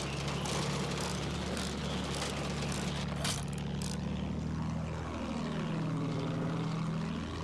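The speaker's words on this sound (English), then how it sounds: "Planes in the sky, though." Propeller warplanes drone overhead in a Battlefield 1 battle at Fao Fortress. A faint, distant engine hum swells as one aircraft passes and its pitch bends downward, beneath a continuous wash of battlefield noise.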